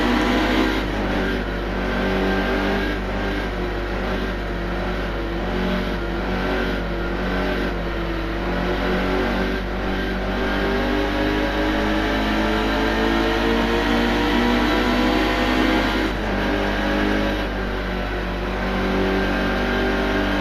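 A NASCAR stock car engine in the NASCAR Heat 2 video game holds a loud, sustained roar at high revs, with harmonic tones wavering and shifting steadily across the whole stretch and no talk over it.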